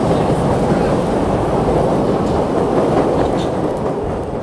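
A passing train makes a loud, steady rumble with faint clickety-clack, filling the space outdoors at a senior banquet, with no talking heard over it.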